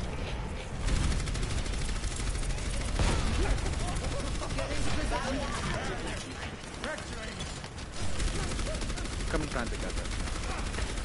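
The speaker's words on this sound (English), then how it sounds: "That's suppressing fire." Suppressing gunfire in the Overwatch video game, rapid bursts of shots layered with game effects and other busy noise, loud and sustained across the whole stretch.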